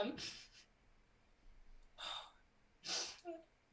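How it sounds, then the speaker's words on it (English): Three quick, faint sniffles through the nose, spaced unevenly, close to the microphone with no clear speech. "sorry for all the sniffles"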